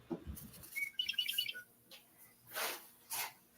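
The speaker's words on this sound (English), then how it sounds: "Man, the sound of birds is so peaceful." Birds chirping outdoors: a brief run of high, quick tweets near the start, followed by a few short faint calls and soft rustling noises, fairly quiet overall.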